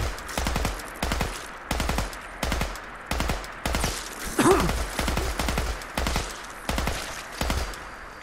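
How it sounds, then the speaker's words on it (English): Video-game gunfire aimed at a bloodfly: short bursts of three or four quick shots repeat steadily about every half second, loud and close, with a brief creature screech in the middle. "Took an awful lot of bullets to take that fly down."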